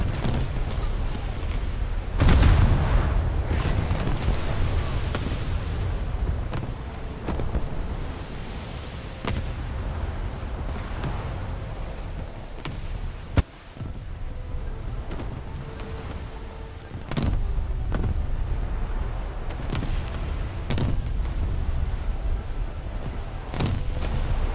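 An Italian battleship in a naval combat game fires its guns: a heavy boom near the start, then several sharper cannon reports at uneven intervals over a constant rumble of wind and sea.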